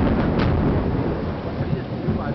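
Heavy rain pours steadily in Vila Regina, Itaquera, São Paulo, during an afternoon lightning storm while a deep, broad rumble of thunder rolls beneath it, loud and continuous throughout.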